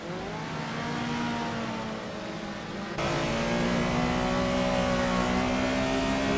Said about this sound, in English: Popcorn Slayer is racing a 1976 Renault 5 Alpine.